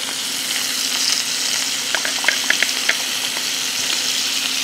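Scallops sear in a pan as whole butter goes in, giving a steady bright sizzle and frying hiss with a few small pops and spatters near the middle, no voices.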